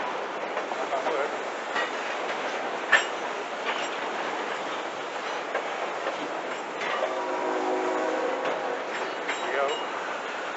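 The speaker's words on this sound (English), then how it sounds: "Trains, gotta love them." A train rumbles past nearby with a steady, noisy roar and faint rhythmic clatter, while a voice talks intermittently over it.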